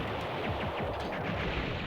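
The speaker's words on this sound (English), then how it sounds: "But yeah, explosions everywhere." Explosions and blasts fill an action scene in the PlayStation game Silent Bomber, a dense, continuous barrage of booming, crackling detonations with no pause, loud and up close.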